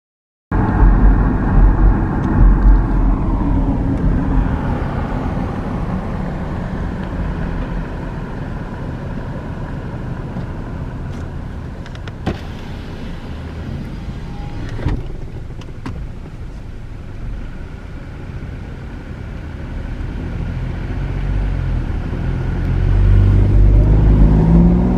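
A car cruises along Charlie Pride Highway in rural Mississippi on the way into Sledge, its steady road and engine rumble filling the cabin throughout, with a few brief knocks partway and the drone swelling louder near the end.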